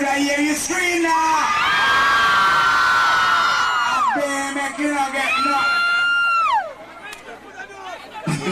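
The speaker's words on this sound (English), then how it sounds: "Could I hear you scream now?" A large crowd at a 2004 Jamaican dancehall clash event screams and cheers in loud sustained whoops and yells, near and dense, with voices shouting over it.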